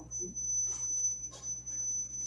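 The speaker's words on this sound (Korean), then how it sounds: "삐 소리가 났다네요" A steady, thin electronic beep tone holds through an online church youth service broadcast, continuous and fairly faint, with soft background murmurs around it.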